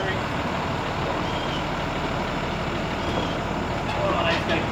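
A truck engine idles close by in a steady, continuous rumble, with a faint high tone near the end and a voice talking over it.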